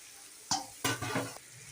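Okra tipped into a pan with tomato and onion, a soft drop then two quick scraping stirs over a quiet frying sizzle.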